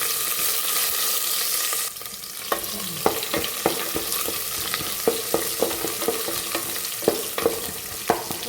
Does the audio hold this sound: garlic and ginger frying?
yes